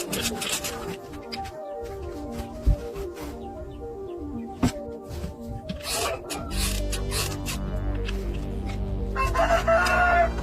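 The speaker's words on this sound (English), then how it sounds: "Oh, there's a chicken." A rooster crows loudly and nearby while chickens cluck around it, with dense, overlapping calls and no speech.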